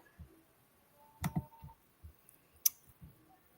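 Prize wheel spun during a live giveaway draw, giving a short run of light ticking clicks that slow and fade, with a couple of sharper clacks; faint and close, with no talking.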